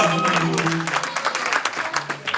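Applause from a gathered audience honoring a couple at a francophone ceremony, a fairly loud sustained patter of clapping with a faint background voice or music tone in the first half, tapering slightly toward the end.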